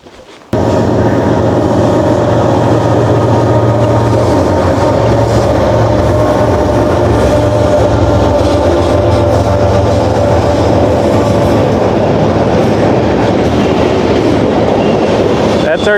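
A freight train hauling lumber rolls past an abandoned railroad townsite in a canyon, a loud continuous rumble of wagons with steady clattering wheels that lasts throughout, close by, with no voices.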